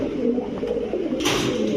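Pigeons coo softly among a pigeon seller's flock of fancy breeds, including a deep-coloured chandan pigeon, with a low, continuous murmur of calls running through the short stretch and no voices.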